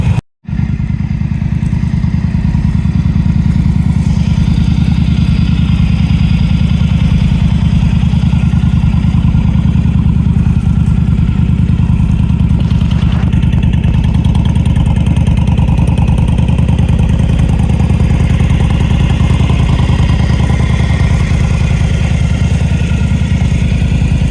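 A Yamaha V Star motorcycle engine idles steadily and loudly up close, a continuous low rumbling throb with slight mechanical clatter, running alone without voices after a brief start at the beginning.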